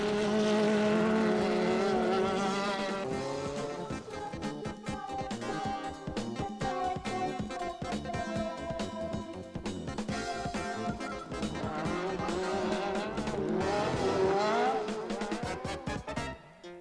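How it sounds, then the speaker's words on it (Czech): Rally cars, including a Peugeot 405 T16, race in the desert Pharaohs Rally, their engines droning and rising and falling in pitch as they pass, loud and continuous throughout. "V čele závodu automobilů přijíždí dvojice Ari Vatanen, Björn Berklund na Peugeotu 405 T16"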